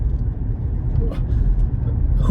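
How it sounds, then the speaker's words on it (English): Road traffic passes by outdoors, a steady low engine rumble with a vehicle whooshing past near the end, close and fairly loud. "excuse me guys for traffic going by here"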